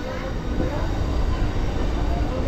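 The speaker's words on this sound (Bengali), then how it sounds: "এই হচ্ছে আমাদের ট্রেন" A new local train running from Howrah to Digha rumbles steadily along the track, close and loud, with a dense continuous roar of wheels and carriage noise throughout.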